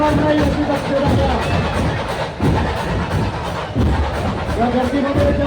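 A dense crowd surges and cheers loudly at a Ganesh idol arrival procession for Chintpokli's Chintamani, with a steady roar of voices, scattered shouts and occasional thumps and bangs throughout.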